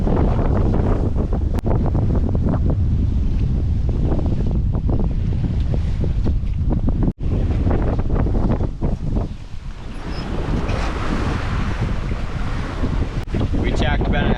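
Strong 20–22 knot wind and rough waves while sailing a boat off Oahu, with a continuous loud roar and heavy microphone buffeting, splashes and a brief cutout partway through.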